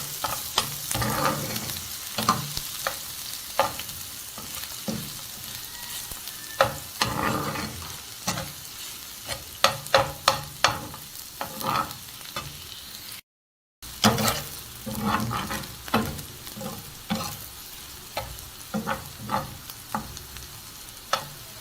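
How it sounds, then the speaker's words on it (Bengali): Chopped onion and half a cup of minced garlic frying in a pan, a constant close sizzle broken by frequent sharp scrapes and clacks of a stirring spoon, no voices, with one brief dropout. "এখন এই পেঁয়াজ আর রসুন খুব ভালোভাবে লাল করে আমি ভেজে নেব।"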